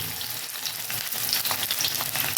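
Young jackfruit pieces frying in a little oil, a dense, close sizzle and crackle that swells slightly toward the end, with stirring and no voices.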